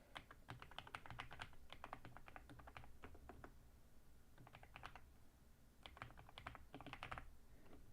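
Computer keyboard typing in quick clusters of clicks with pauses between bursts, quiet and close, no voices.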